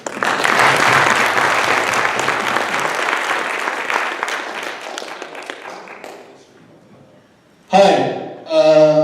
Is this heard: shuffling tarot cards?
no